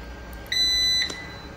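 A UPS inverter alarm sounds one steady electronic beep lasting about half a second, clear and close over a quiet room hum, followed by a short click.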